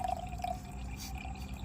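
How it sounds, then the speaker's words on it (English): Water in a camping pot set over a stove, a soft liquid trickle with a faint ringing tone and a few drips, close by and fairly quiet, with no talking. "we got our water poured"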